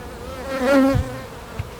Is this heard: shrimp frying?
no